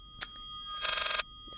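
A telephone rings in the horror video game Layers of Fear, a sharp click followed by a single buzzing, bell-like ring lasting about half a second, moderately loud with no voices.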